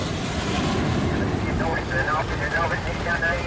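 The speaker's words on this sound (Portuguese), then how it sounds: "Às 11h42, o avião decola." Steady loud roar of an airplane engine during takeoff, continuous and broadband, with faint voices murmuring underneath.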